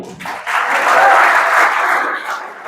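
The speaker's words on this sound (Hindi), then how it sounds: "बजाओ ताली" Brief burst of audience applause at a live stage show, swelling quickly after a voice, holding for about two seconds, then easing off.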